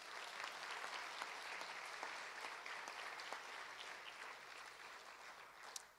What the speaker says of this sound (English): Can we have a round of applause for our generous sponsors?